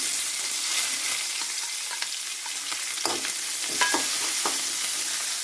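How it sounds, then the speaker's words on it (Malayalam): Dried red chilies and small onions sautéing in ghee give a steady, close sizzle with occasional scraping stirs throughout. "ഉള്ളിയൊക്കെ നന്നായി വഴറ്റിയെടുക്കാം"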